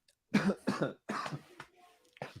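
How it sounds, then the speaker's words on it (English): Three or four harsh coughs in quick succession, close and loud, followed by a softer throat sound and another brief cough. "I've had a cough all day."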